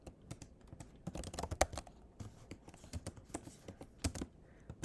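Computer keyboard typing in bursts of quick, irregular keystrokes while coding a Python Pac-Man game, close and crisp with short pauses and a few heavier key hits.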